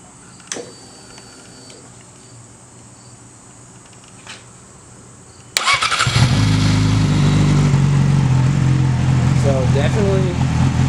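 A Yamaha R6 motorcycle with a TOCE straight pipe exhaust starts up partway through after a quiet stretch with faint insects, then idles loud, deep and steady up close.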